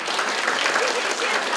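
Audience applause for the personnel department at a Hualien County Government gathering, a steady dense clapping from a crowd filling the short moment without pause.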